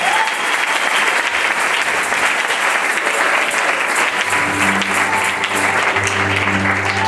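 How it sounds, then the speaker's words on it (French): Congregation at a church service clapping loudly and steadily for several seconds, a full sustained round of applause, with a sung or hummed tone rising underneath toward the end. "Acclamons très fort pour le Seigneur"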